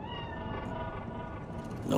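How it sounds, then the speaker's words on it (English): A cat meows in the Cyberpunk 2077 video game, a steady tonal call held over a continuous noisy game background, ending with a brighter, louder burst near the close. "That cat? Fine-looking feline."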